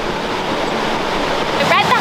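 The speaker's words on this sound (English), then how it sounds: "Right behind me is Rainbow Falls." Rainbow Falls in the Great Smoky Mountains, a high single-drop waterfall, gives a steady, even rush of falling water, with a faint voice starting near the end.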